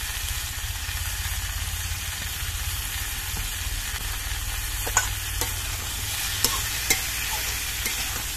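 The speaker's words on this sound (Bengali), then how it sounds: "এবার সব কিছু দিয়ে নেড়ে মিশিয়ে দিতে হবে।" Vegetables for neem shukto being stirred and fried in a pan, with a steady, loud sizzle throughout and occasional sharp clacks of the spatula against the pan, heard close.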